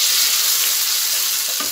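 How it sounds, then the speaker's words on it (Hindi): Tomatoes go into browned onions and green chillies frying in a pan for a spicy brinjal fry, giving a steady loud sizzle with a brief clatter of stirring near the end. "अब हम टमाटर डालेंगे"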